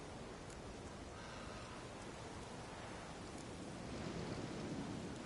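Steady heavy rain with a low rumble of thunder during a storm in The Witcher 3, a dense wash of noise that swells slightly louder toward the end, with no voices.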